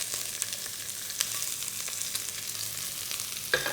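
Onions hiss loudly in a hot wok over high heat, a steady bright sizzle with a few spatula taps and scrapes, close by with no talking.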